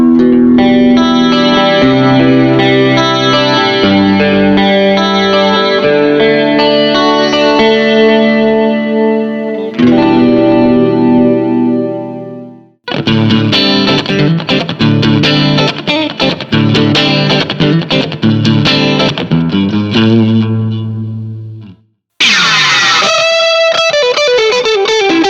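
A HUSH X LIVE headless guitar plays through its built-in speaker amp in loud, continuous passages with chorus, echo and distorted effects, separated by short gaps, ending in a bright, effect-laden phrase.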